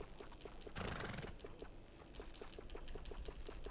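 A horse in the Red Dead Redemption 2 video game gives one loud whinny near the start, with steady clip-clop hoofbeats continuing throughout against a low background hum.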